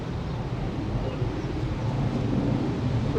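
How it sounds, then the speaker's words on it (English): Gusty wind rushes over outdoor decking on a blustery day, a loud, continuous low roar of buffeting against the microphone with no voices. "I'm sorry if you can't hear me because the wind's come up"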